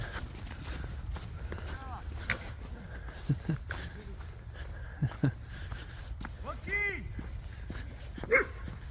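Dogs bark, yip and whimper in Sherdley Park in St Helens on a morning with many dog walkers. The short barks are scattered and fairly distant, heard under nearby talking and footsteps.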